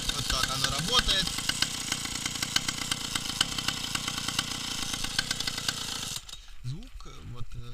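A homemade moped powered by a chainsaw engine runs loud and close with a steady buzzing, rattling drone for about six seconds, then cuts off abruptly, leaving quieter mechanical ticking and a brief murmur.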